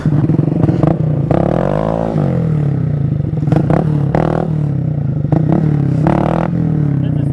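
Honda Grom motorcycle engine revving loudly and steadily throughout, with pitch rising and falling as the clutch is snagged to break the rear wheel loose, plus some clattering and scraping.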